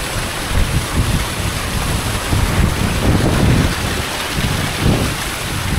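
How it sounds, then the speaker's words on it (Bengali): The large Langlok waterfall roars as a steady, dense rush of falling water heard up close, continuous and loud throughout with no voices. "সবচেয়ে বিশাল একটা ঝর্ণার সামনে দাঁড়িয়ে আছি আমি এখন"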